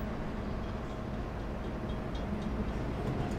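Steady low rumble of a train rolling along rails near Adelaide, South Australia, a continuous rattling drone with faint higher clatter, moderately distant and without voices.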